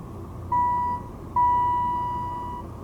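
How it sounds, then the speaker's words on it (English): A 1988 Dover Impulse hydraulic elevator at Bolton Hall, Texas A&M University in College Station, gives two steady tonal buzzes: a short one, then a longer one that slowly fades, over a low background rumble. "That's a low-pitched Dover buzz I hear inside."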